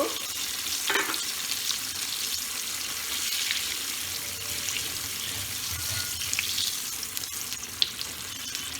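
Eggplant slices fry in a pan with a continuous bright sizzle, close and steady, with occasional clinks and stirring noises and a faint running-water wash in the background.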